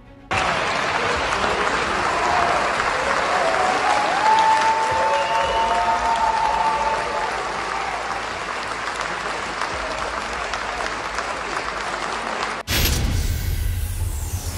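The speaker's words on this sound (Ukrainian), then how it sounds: "Його зустріли з оплесками." Parliament members applaud President Zelensky in the Ukrainian legislature chamber, a long, steady roar of clapping that gradually softens before cutting off abruptly near the end.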